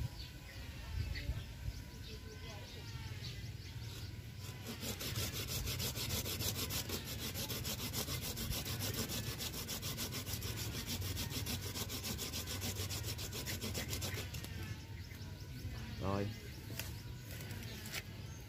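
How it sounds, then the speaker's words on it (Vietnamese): Steady rhythmic rasping of a hand saw cutting through a yellow apricot blossom (mai) tree branch, strokes repeating continuously, with birds chirping faintly in the background. "Cưa bỏ hết cái phần này luôn các bạn"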